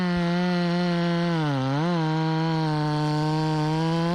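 A chainsaw bucking a log on a yard job: a loud, steady engine drone whose pitch sags briefly mid-cut, then recovers. No voices.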